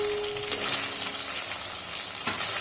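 Ground spices sizzle and fry in oil in a pan for a fish curry with winter vegetables, a steady close crackling hiss with faint stirring scrapes and no talking.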